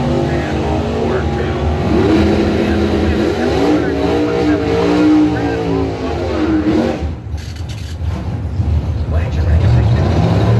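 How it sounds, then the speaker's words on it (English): A 1984 Monte Carlo drag car launches at a drag strip, its engine roaring loud and rising in pitch for several seconds as an announcer talks over it and the crowd noise. "Get ready for that big wheel stand at Monte Carlo."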